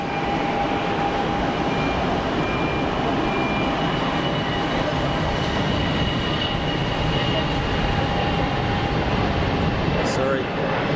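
A continuous loud roar of an EasyJet airliner rolling for departure at Geneva Airport, a dense broadband rumble with a faint steady whine that holds evenly throughout, heard from a spotting position nearby.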